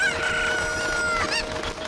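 Chicken clucking from Ocarina of Time, a short run of bright, pitched game-sound clucks with a squawk near the end, no talk over it.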